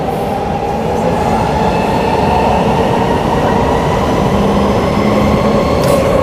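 A Perth suburban train runs at speed through a tunnel, giving a loud, constant rumble and roar with a faint whine of wheels on rails. It is heard close up and continuously, with no talk.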